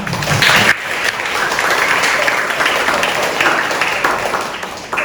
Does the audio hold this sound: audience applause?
yes